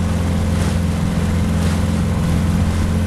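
A Suzuki DT9.9S outboard motor drives a Forward MX360FL boat slowly into a headwind during break-in near Russky Island, Novik Bay, giving a loud, close, steady droning hum without talk.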